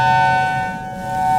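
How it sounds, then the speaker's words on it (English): An outdoor civil defense tornado warning siren near Tulsa, Oklahoma sounds as a loud, steady wail that dips slightly and then swells again, with no talk over it. "the phones went off probably 1 minute before the outside sirens"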